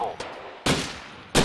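Pistol shots ring out in the VR shooting game Gun Club VR, three sharp reports with the last two sounding as loud, close cracks.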